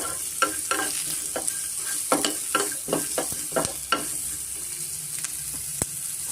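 Onions frying in a pan for a buttermilk sambar, with scattered sizzling and intermittent scraping stirs close by, no talking.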